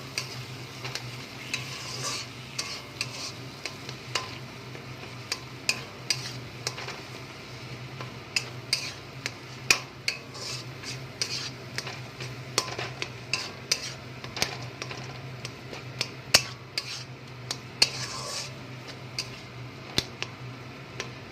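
Cumin, coriander, chilli and turmeric spice mix with a little sugar is stirred in a hot pan, giving a steady soft sizzle under repeated scraping and clicking strokes of a spoon against the metal.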